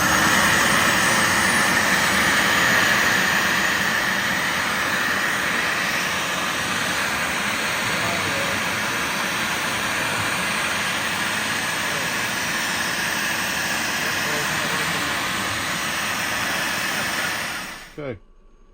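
CNC machine running a cutting cycle while making a sign, giving a loud, steady, broadband whir and rush that holds for many seconds, then winds down abruptly near the end.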